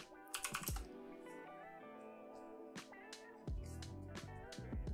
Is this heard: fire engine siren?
no